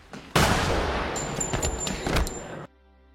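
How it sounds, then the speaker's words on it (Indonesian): A rapid burst of pistol gunfire in a yakuza film, several loud shots fired in quick succession that ring out for about two seconds before cutting off abruptly. "Torada lantas merebut pistol itu lalu menembaknya."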